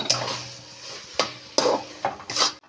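Mashed eggplant for begun bharta is stirred in a pan, heard as several distinct scraping and knocking strokes of a spatula against the pan over a faint sizzle, no voices.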